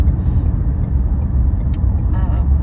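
Steady low road rumble of a car heard from inside the cabin while driving, loud and continuous, with faint brief squeaks and no talk during the moment.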